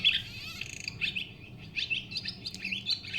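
Bird song played back on a Norns synthesizer: a series of quick, high chirps and tweets in irregular bursts, fairly faint and clean with no talking.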